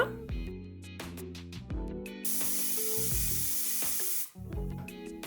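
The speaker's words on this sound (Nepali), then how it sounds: "अब यो प्रेसर कुकरको हावा जान दिनुपर्छ" A pressure cooker of goat mutton curry vents steam in a loud, steady hiss lasting about two seconds, set against background music that continues before and after.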